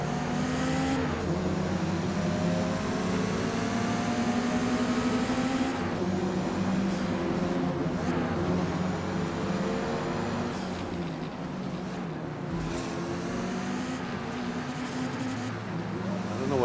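A race car engine in the video game Forza Motorsport roars continuously, revving up and down with crackling exhaust pops, loud and sustained throughout.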